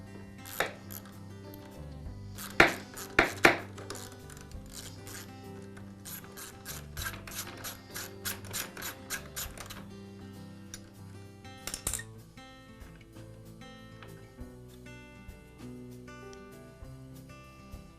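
A nut being loosened from the rail lock lever on a DeWALT table saw: fast ratcheting clicks from a wrench in quick bursts, then slower metallic turning and scraping, close but fairly quiet, with no talking.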